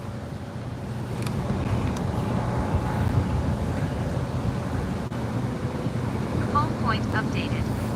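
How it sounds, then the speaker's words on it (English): Continuous wind buffeting a microphone outdoors at Waterside while a DJI drone is set up, a low rumbling rush that holds steady throughout with a few faint background tones. "it's windy today."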